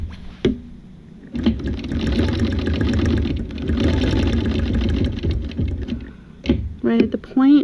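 A sewing machine stitches a quilt along a ruler, making a steady, close whirring run of several seconds, with someone talking just before and after the stitching.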